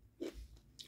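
A close, quiet bite into crunchy unripe green mango gives one crisp crack followed by a brief chew.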